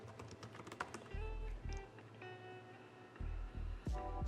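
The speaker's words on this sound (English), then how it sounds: "It is pretty easy for me to actually walk while I type." Typing on a computer keyboard while walking: quick close key clicks in uneven bursts over steady low thumping footsteps, with no talking.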